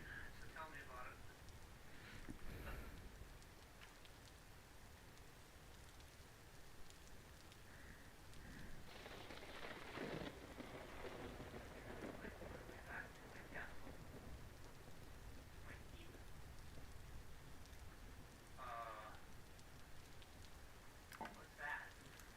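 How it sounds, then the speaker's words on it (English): Heavy rain falls steadily in the video game Vintage Story, a continuous wash of hiss held at an even level for the whole stretch, with brief rumbling swells and scattered crackles mixed into it. "boy, that is a lot of rain."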